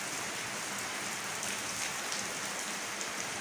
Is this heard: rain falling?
yes